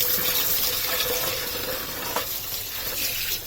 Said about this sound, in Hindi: अब हम श्यामा तुलसी को वॉश करेंगे।